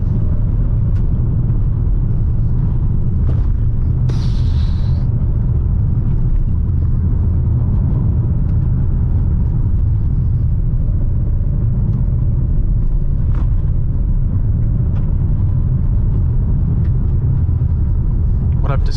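Hyundai Palisade SUV driven hard in sand mode on a rally-style run, its engine and tyre rumble a steady, loud low drone throughout from inside the cabin.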